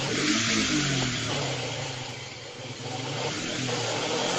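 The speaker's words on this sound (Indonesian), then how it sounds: "Lu ngapain geber-geber motor?" A neighbour's motorcycle engine, being warmed up, revs hard and repeatedly, a loud continuous roar that rises and dips, with no talking over it.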